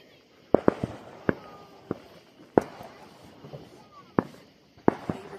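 Fourth of July fireworks are launched nearby, sending out around eight sharp, loud bangs and cracks at irregular intervals, with quieter crackle and faint voices between them.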